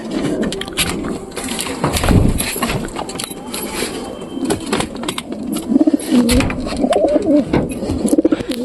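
Pigeons coo in low, throaty, repeated calls inside a loft, with shuffling, wing flutters and movement noise around them.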